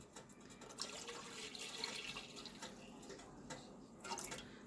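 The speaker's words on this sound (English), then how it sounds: "But I'm going to pour the milk in." Milk pours in a steady splashing stream into a pot of clam chowder made from a home-canned base, with soft gurgles and drips close by.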